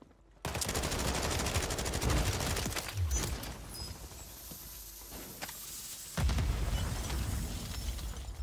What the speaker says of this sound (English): that grenade actually rolled where I was going